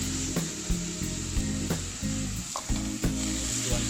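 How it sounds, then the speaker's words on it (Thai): Minced pork and shrimp stir-fry in a pan with almost no oil for Thai holy basil stir-fry, a steady loud sizzle punctuated by regular scraping strokes of the spatula, with no talking. "ก็รวนหมูไปเรื่อยๆนะครับให้แห้ง"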